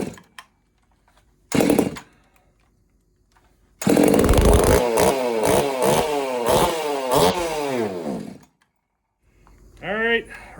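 A custom-built 50cc racing chainsaw, primed and then pull-started, gives a short sputter, then fires and revs loudly and raggedly for several seconds before dying out, followed by another brief burst.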